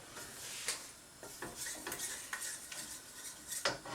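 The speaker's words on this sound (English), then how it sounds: "I'm just going to keep stirring." A spoon stirring in a pot on the stove, with scattered metallic scrapes and clinks in an irregular rhythm, close and fairly quiet.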